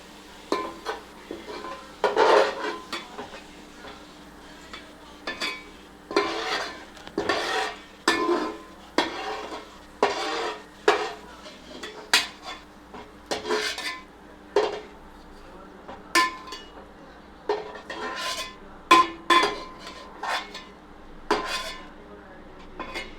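Spoon scraping and clanking in a pan while ingredients fry with chilli powder for egg biryani, repeated metallic stirring knocks over a low sizzle.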